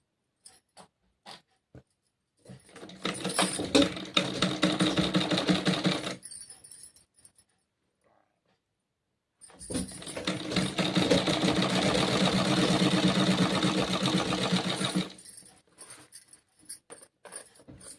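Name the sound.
sewing machine stitching a kurti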